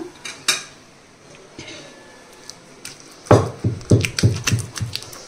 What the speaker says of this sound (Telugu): సో దీన్ని కూడా కలిపి ఒకసారి అయితే దంచుకుందాం.